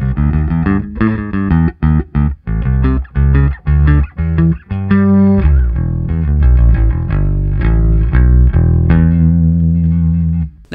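Bass guitar played through the clean channel of a HIWATT Custom 50 combo amp with no pedal: loud, warm picked notes and short phrases with brief gaps, then a held, ringing passage near the end.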